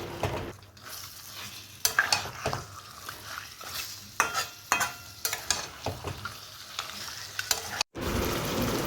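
Mutton stir-frying in a wok with spices and a sprinkle of sugar, soft sizzling punctuated by repeated sharp scrapes and clinks of a spatula against the pan, close and intermittent.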